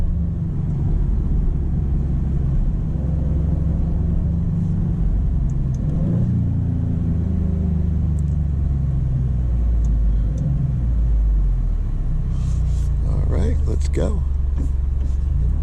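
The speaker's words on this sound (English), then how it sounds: "And it accelerates to the speed limit very quickly." A 2025 Maserati GranCabrio Trofeo pulls away, and a deep, steady engine rumble with rising tones is heard from inside the car while a person talks over it throughout.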